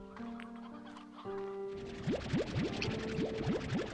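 Chickens in the Slime Rancher 2 video game, a run of quick clucks and squawks repeating rhythmically over a steady game tone, close and fairly clear.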